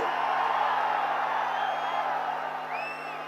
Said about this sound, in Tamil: குமராபாளையத்தில் நடைபெற்ற கூட்டத்தினுடைய ஆரவாரம் செவிய தொலைச்சுக்கிட்டு போகுது